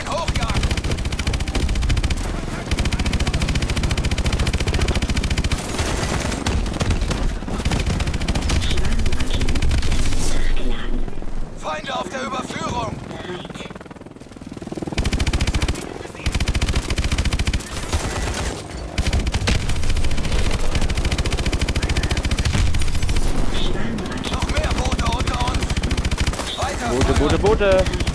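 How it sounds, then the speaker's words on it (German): Heavy machine gun fire rattles at attack boats in the video game Call of Duty: Advanced Warfare, loud sustained bursts with explosions, briefly dropping out midway before resuming, with radio voices shouting over the gunfire. "Feuer frei auf diese Boote."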